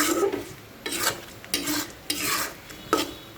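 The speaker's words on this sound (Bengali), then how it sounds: "আমি পাঁচফোড়নটাকে একটু তেলের মাঝে ভেজে নিচ্ছিলাম" Panch phoron spices fry in oil for a beef pickle. About five rhythmic stirring scrapes of a spoon in the pan sound over a light, close sizzle.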